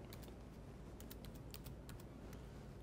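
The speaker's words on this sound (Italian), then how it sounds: "dobbiamo digitare username due punti password senza spazi" Fingers type quickly on a computer keyboard, producing a steady patter of soft clicks with no voice, quiet and close to the mic.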